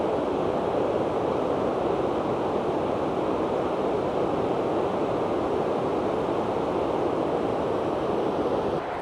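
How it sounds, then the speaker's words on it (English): Drake Falls, waterfall number four on an Oregon trail, roars in a steady broadband rush of water, loud and constant without a break, with no voices over it. "This is Drake Falls waterfall number 4."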